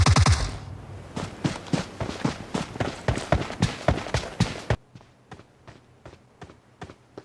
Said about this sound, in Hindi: फायरिंग हुई है, मेरे ही टीम मेंबर ने फायरिंग की है।